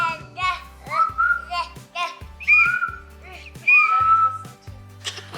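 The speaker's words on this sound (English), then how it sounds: "For now, you can just use the whistle." Whistling with a toy whistle at home alongside a small child, a series of bright chirping tones rising and falling in short bursts, with children's voices mixed in.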